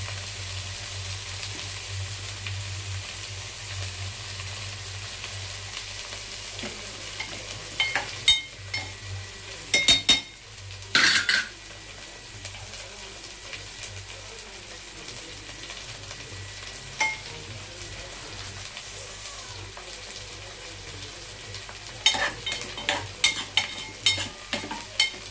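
Prawns frying with ginger-garlic paste in a pan for biryani give a steady sizzle throughout, broken by scattered bursts of stirring and scraping, heard up close without speech.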